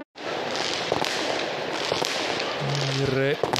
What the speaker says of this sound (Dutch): De supporters van Charleroi laten het ondertussen knallen.